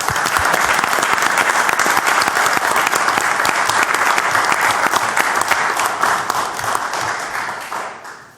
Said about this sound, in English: let's give a round of applause for all three